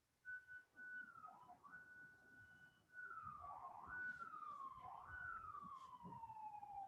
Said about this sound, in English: There's no telling that I'm in New York by all the sirens that you hear in the background.